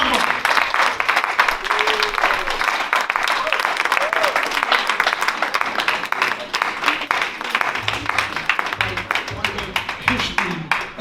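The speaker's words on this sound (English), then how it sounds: "Can we give another round of applause to Omar?" A concert audience gives sustained applause at an MLK tribute event, dense clapping filling the room steadily at close range, with some voices mixed in beneath it.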